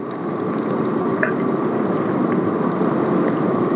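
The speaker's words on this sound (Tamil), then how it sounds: "ஒரு 2 லேயர் புளி கரைச்சி சேர்த்திருக்கேன்." Tamarind water is poured into oily eggplant gravy (ennai kathirikai kuzhambu) in a pan, giving a steady close liquid fill with soft sizzling and bubbling throughout and no talking.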